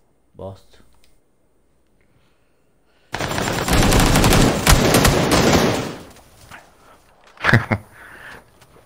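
After a near-silent pause, a loud burst of rapid automatic gunfire rattles for a few seconds in an Xbox video game, followed by scattered shots and a voice.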